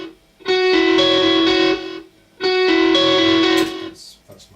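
An electric guitar part run through effects processing, played as two sustained, distorted phrases with a chorus-like shimmer, each ringing for about a second and a half before stopping, loud and alone.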